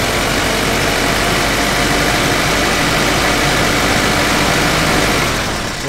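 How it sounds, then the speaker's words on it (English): A steady car engine held at 2,500 RPM during a battery analyser test, loud and close for several seconds, then easing off slightly at the end. "it wants us to increase the RPM of the engine and hold it"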